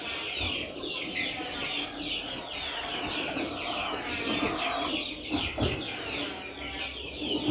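Young layer chicken chicks on a rooftop peep and cheep continuously, many small overlapping high calls at moderate distance with occasional louder chirps.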